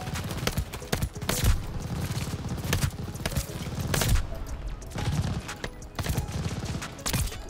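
Rapid bursts of submachine gun fire from a video game, sharp repeated cracks in quick volleys with short pauses between them.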